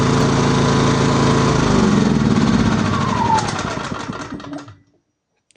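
Small power generator engine running steadily and loudly up close, its hum then fading and winding down into silence near the end.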